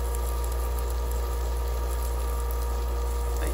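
Pork belly cooks on a smokeless grill, giving a steady, close hiss and bubble of fat beneath a constant electric hum, with no talk.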